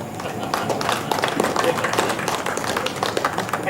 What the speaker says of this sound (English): Round of applause for Dr. Bharat Bhushan sir,